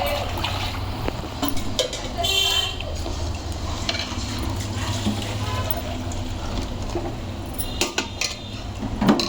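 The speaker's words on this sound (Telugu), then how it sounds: "ఈ గిన్నెతో 2 గిన్నెలు నీళ్ళు పోతున్నాం." Water poured from a bowl into a pot of frying rice while making chicken biryani, a steady splashing pour with clinking of metal vessels and a low background hum.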